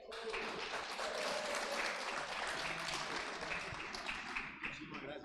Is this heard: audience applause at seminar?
yes